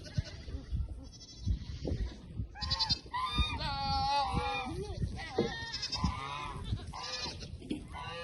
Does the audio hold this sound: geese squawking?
yes